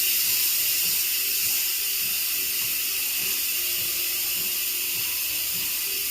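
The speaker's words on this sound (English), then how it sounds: "Now I need to release some of this steam, the pressure." Steam pressure hissing out of a pressure cooker releasing its pressure while cooking chicken and rice, a loud, steady, close hiss that continues unbroken throughout with no talking.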